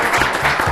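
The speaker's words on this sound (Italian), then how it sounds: "Un applausino non sarebbe schifo" Brief burst of applause for young riders of a cyclocross team, a short patter of clapping from a small crowd that carries on steadily for under a second.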